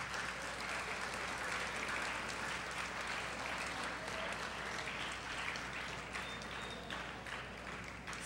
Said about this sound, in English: take a moment to please applaud and recognize your parents